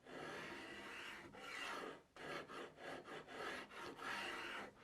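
A hand file rasps across the wooden fretboard of a Telecaster build to shape its radius, first in long continuous strokes, then in a run of shorter rhythmic passes, close and quiet.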